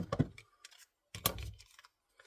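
Scissors snip a small paper Christmas place card in two quick, close cutting strokes separated by a pause, crisp and fairly faint.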